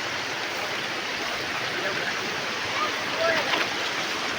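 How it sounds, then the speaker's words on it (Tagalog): A stream in Cotomines, Zambales flows in a steady, continuous rush nearby, with a broadband wash that holds even throughout. "Maririnig mo yung daloy ng tubig."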